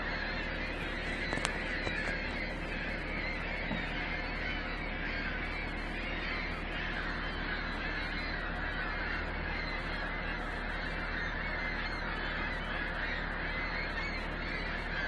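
A large flock of birds honking continuously, a dense, steady chorus of overlapping calls at moderate distance over a constant low background rumble, with no clear talk.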